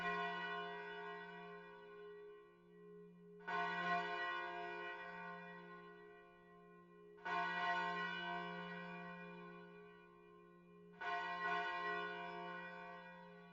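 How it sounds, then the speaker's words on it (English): A deep, resonant bell tolls midnight in the visual novel Umineko, striking four times at even intervals, each stroke ringing out and slowly fading over a steady low hum with no voices. "The bell's ringing."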